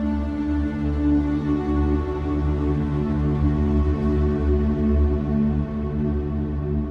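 Sustained ambient synth pad with a huge, long reverb tail from a big-space preset, steady and loud with dense, smeared harmonic layers washing continuously throughout, no voices.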